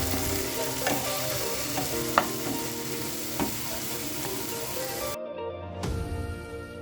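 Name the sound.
sautéing ginger garlic paste in a pan for chicken masala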